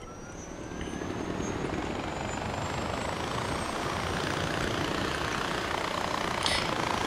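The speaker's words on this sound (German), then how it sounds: "Das Ganze nochmal zum Hubschrauber." A helicopter in Far Cry 4 flies with a steady, loud rotor and engine roar that stays constant and close throughout, with no talking over it.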